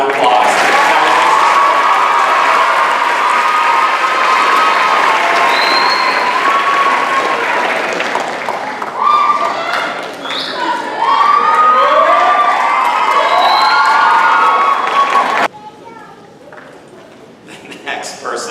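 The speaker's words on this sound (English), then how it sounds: "Please join me in giving her a warm round of applause." Sustained loud applause and cheering from a crowd at a 2017 school graduation ceremony, steady for about fifteen seconds before dropping suddenly to quieter clapping and murmurs.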